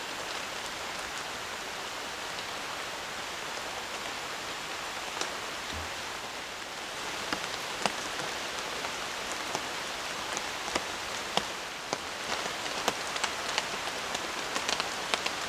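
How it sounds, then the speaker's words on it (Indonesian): Steady rain falls at night on a campsite, a dense even hiss with scattered sharper drops pattering close by, with no voices. "Dari sore sampai sekarang malam hujannya masih turun ya"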